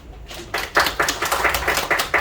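An audience claps to welcome a lecturer to a community consulting session in Korea. The applause is close, dense and steady, with clear hand claps rising after a quiet start and running to the end without speech.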